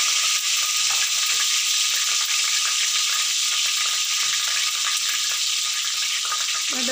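Mustard seeds crackle and sizzle in hot sesame oil in a pan, a dense, steady frying hiss with fine popping that runs loud and close throughout, with no talking.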